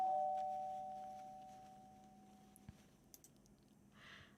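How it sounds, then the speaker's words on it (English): A single soft doorbell chime rings out and slowly fades, followed by a few faint clicks and a quiet rustle in an otherwise still room. "rings the doorbell"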